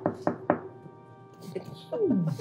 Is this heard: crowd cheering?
no